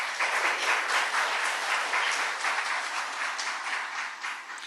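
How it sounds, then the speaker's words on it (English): An audience at a regional Caribbean tourism forum applauds steadily for a few seconds, a dense wash of clapping that slowly tapers off. "Please give her a round of applause."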